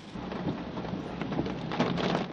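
Heavy rain pours steadily on the Skyway in Parañaque during a downpour, a dense continuous hiss with a faint low rumble beneath.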